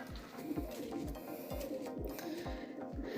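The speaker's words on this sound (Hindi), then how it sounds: "वो जो खुमरे और कबूतर, कितनी प्यारी आवाज़ आ रही है" Pigeons coo steadily at close range, soft throaty calls repeating in a rhythmic pattern with faint background birds.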